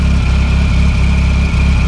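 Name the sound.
car engine idling with ancillaries, nothing else switched on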